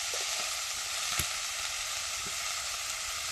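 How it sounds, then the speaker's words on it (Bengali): Potatoes and cauliflower frying in oil for a cauliflower singara filling, a steady close hiss of sizzling with a brief clink of stirring near the middle. "এবার আলু আর ফুলকপি একটু ভাজবো।"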